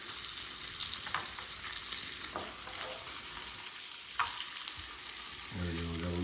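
Bacon and sausage fry in a pan with a steady soft sizzle and a few scattered scrapes, ending in a brief low hum.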